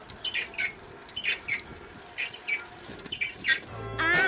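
An old bicycle with no brakes squeaks in short, sharp, rhythmic bursts as the pedals turn, loud and close, with a brief burst of music at the end.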